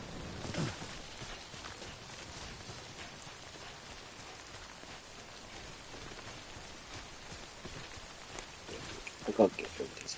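Steady rain falls across the outdoor landscape in the Death Stranding video game, a continuous soft hiss throughout with a few louder splashes or footstep-like knocks near the end.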